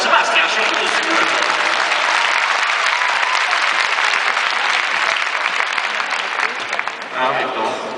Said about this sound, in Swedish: Men en applåd för Sebastian, 27 sekunder.